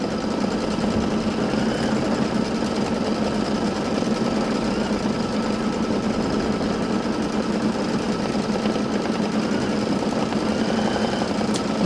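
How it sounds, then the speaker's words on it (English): An embroidery machine stitches a quilt block on Mylar embroidery sheets, giving a steady, fast mechanical whir and rapid needle chatter that runs unbroken and close throughout, with no voices. "This is where it's stitching at. You can see it moving from place to place."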